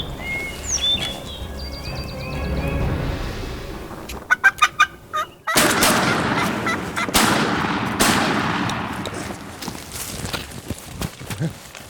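Turkeys gobble and cluck during a hunt, then a loud close gunshot blast cracks out, followed by further rapid bursts and rustling as the birds scatter.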